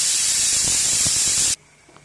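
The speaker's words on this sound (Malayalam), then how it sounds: "ഈ കുക്കറിൽ 2 വിസിൽ വന്നിട്ടുണ്ട്." Steam bursts in a strong, steady hiss from a pressure cooker whistle while pongal cooks on the stove, close and loud, then cuts off sharply, leaving near silence.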